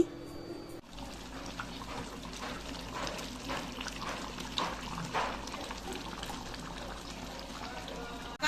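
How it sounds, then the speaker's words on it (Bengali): Water is poured into a pot of crab curry to make gravy, a steady close gushing and trickling pour that fills most of the clip, with faint background noise. "তরকারিতে ঝোলের জন্য জল দিয়ে দিয়েছি"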